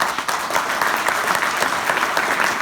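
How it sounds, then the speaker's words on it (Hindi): Audience applause at a Safeshop network-marketing seminar, a dense steady burst of clapping from a crowd filling the room at an even loudness, with no voices over it. "अब बजा सकते हो ताली"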